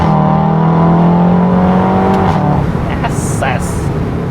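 A VW Golf 7.5 R engine heard from inside the car, a loud rising rev under acceleration that drops at a gear change, then climbs again, with a voice talking over it.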